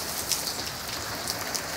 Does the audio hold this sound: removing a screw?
no